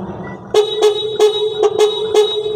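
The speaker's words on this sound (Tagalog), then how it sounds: "try natin yung busina mga tuktok" A Piaggio Ape City 230cc tuk-tuk horn beeps six times in quick, uneven bursts, loud and close, over a low idling engine.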